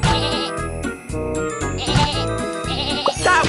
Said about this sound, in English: Some sheep have wandered off from the farm.